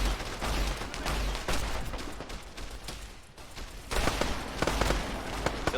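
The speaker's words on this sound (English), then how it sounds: "You can hear all those ballistics firing." Dense gunfire and explosions from the military shooter game Arma 3, with plasma and laser weapons and a riot shotgun in close-quarters combat: continuous crackling volleys with sharp individual shots and heavier booms, loud and sustained throughout.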